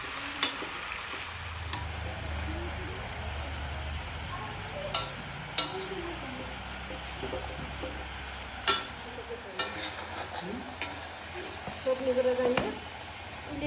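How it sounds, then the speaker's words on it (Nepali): A large batch of meat is stirred and mixed for a Dashain feast, making a continuous wet, churning scrape with occasional knocks and clatters, close up against low background murmur. "अहिले त्यहाँ चाहिँ धेरै मासु भयो, त्यही भएर अहिले चाहिँ मिक्स गर्न गाह्रो भइरहेछ"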